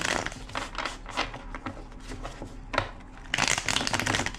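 Tarot cards being shuffled by hand in a series of quick riffling bursts, close and crisp, with a short pause midway before a dense final flurry.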